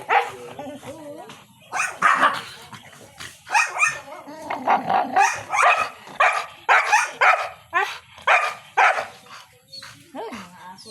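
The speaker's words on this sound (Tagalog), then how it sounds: "Ay, mga aso ko yun." Several dogs bark and yip in bursts from around a house, the calls rising over a continuous stretch of people talking nearby.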